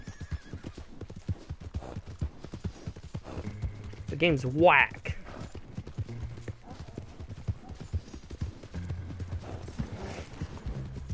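Horse hooves clip-clop in Red Dead Redemption 2, a rhythmic stream of footfalls with a loud whinny in the middle, while a player talks over the game sound.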